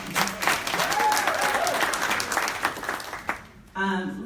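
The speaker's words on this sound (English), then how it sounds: "Stop clapping." An audience at a 2018 Suffolk County district attorney candidate forum in Boston claps loudly and steadily for several seconds. The applause then cuts off and a voice speaks near the end.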